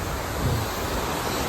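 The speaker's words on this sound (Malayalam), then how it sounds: "താഴെ വെള്ളം പോകുന്നു." Clear stream water flows beneath a small iron bridge near the Vellamala tunnel, a soft, steady rushing wash heard without any talking.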